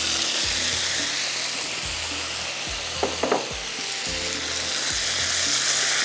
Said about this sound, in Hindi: अब ये गार्लिक के साथ जाएगा चिकन जिसको अभी आपके सामने मैंने फ्राई किया है